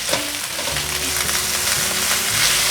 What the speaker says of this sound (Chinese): 快速拌炒